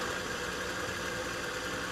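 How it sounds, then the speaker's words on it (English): Small motorcycle engine running on alcohol fuel, a steady, smooth idle hum held evenly at close range, with no voices. "This small bike here even benefits from alcohol's vibration-free running."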